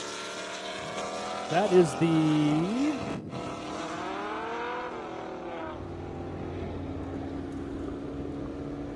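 A Dodge Hellcat at an airstrip drag race revs its engine in a few rising and falling bursts, heard from a distance under a commentator's voice, followed by steady crowd and track noise.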